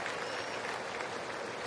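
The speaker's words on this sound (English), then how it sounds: "A round of applause as both players are at least" A baseball stadium crowd at a Reds vs Cardinals game applauds as players come in, a dense, steady wash of clapping and crowd noise heard from a distance.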